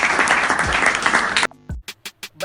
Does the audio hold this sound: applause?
yes